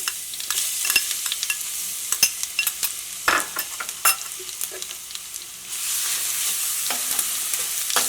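Crushed ginger and garlic frying in hot oil with popped mustard seeds, a close, steady sizzle broken by frequent scraping stirs of a spoon against the pan.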